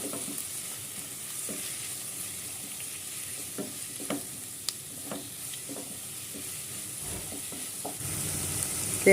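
Sliced onions with salt frying in a pan, stirred steadily so the soft sizzle carries light scraping strokes throughout, close and fairly quiet.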